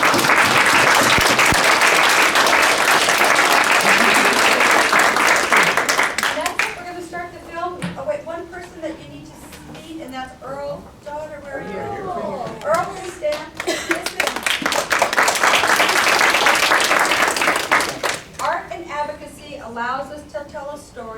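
Audience applause honoring mesothelioma patients and asbestos victims at an advocacy conference, loud sustained clapping that fades into a stretch of talk and children's voices, then swells again into a second long round of applause.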